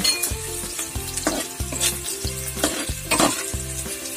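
Onion and garlic fry for kare kare, a close, loud sizzle broken by regular spatula strokes against the pan, with a looping musical pulse underneath.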